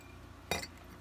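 A single-element bulb wrenched out of an old trailer light socket, a single sharp glassy clink and scrape about halfway through, close by, against a quiet background.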